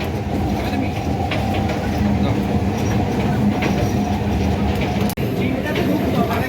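Passenger train running on rails, a steady loud rumble with faint clatter throughout, a family group of adults and children riding inside, voices talking over the rolling noise.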